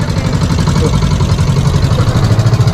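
A boat engine runs close and loud, a steady throbbing low rumble with a pulsing beat throughout.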